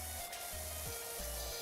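A pressure washer in the video game PowerWash Simulator 2 sprays water in a continuous, fairly quiet hiss, with soft low game music tones pulsing underneath.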